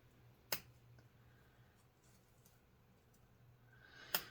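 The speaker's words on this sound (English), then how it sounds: "I'm just going to go ahead and use my scissors to make those cuts complete all the way up to the guideline I've drawn" Scissors snip through paper up to a drawn guideline, giving two sharp, crisp cuts several seconds apart in an otherwise quiet room.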